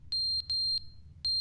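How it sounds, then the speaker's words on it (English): A fire alarm sounding in a room, a high, piercing electronic beep in repeated bursts with short gaps, loud and close over a low background hum. "Fire alarm?"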